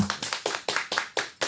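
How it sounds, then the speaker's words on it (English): About eight sharp, close hand claps ring out at an uneven, quick pace, each crisp and distinct, with no talking over them. "Clap it up for my boy, man."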